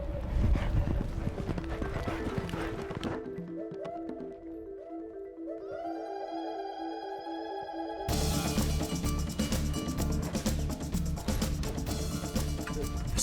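Horse hooves clip-clop in a steady rhythm during stunt riding, with music and other sound in the background and a brief neigh, moderately close and fairly loud throughout.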